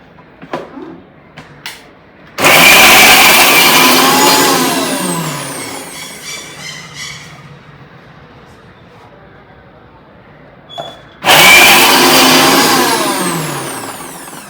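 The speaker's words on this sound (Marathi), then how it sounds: "तो मिक्सरमध्ये बारीक करून घेते" A kitchen mixer grinder chopping coconut pieces roars loudly in two separate bursts of several seconds each, with quieter handling noise and a voice in the pause between them.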